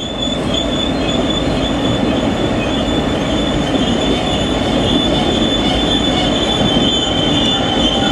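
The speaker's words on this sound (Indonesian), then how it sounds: "Ada dua depan belakang lokomotif. Membawa rel baja." Two Chinese Dongfeng diesel locomotives, one at the front and one at the back, haul a long train of wagons loaded with steel rail. Wheels rumble and squeal loudly in a steady, close, continuous roll with faint rhythmic clatter and no talking.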